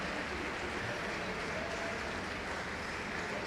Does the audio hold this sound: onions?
no